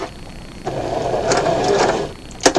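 A sewing machine stitches fabric for a bow tie, with a short, loud, close motor whir of rapid stitches lasting just over a second, followed by a couple of sharp mechanical clicks.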